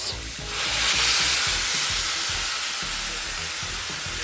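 Hot water hitting a hot pan while cooking salmon sinigang with radish, a loud steady sizzling hiss with bubbling, close and continuous without talk.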